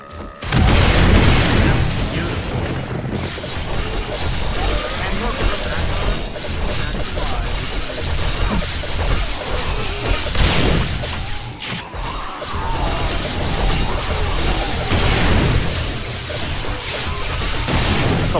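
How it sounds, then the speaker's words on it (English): Explosions in the video game 7 Days to Die during a blood moon horde night, a continuous loud barrage of booming blasts, crashes and shattering debris with dense rumbling layered throughout. "Okay, this is gonna be a triple explosion,"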